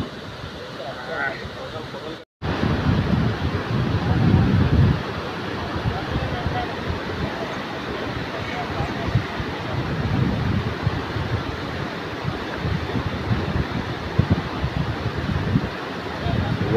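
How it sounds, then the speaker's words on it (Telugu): Strong wind sweeps across an open spot, buffeting the microphone in uneven low gusts that rumble on throughout, while people talk now and then. "ఓపెన్ ప్లేస్ కాబట్టి గాలి ఎక్కువ వేస్తూ ఉంది"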